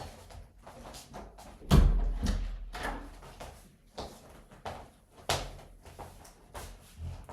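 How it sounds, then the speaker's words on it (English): A door is pushed shut indoors, a dull thud partway through followed by fainter knocks and rustling, all quiet and close with no talking. "I'm going to use this as an excuse to close the door."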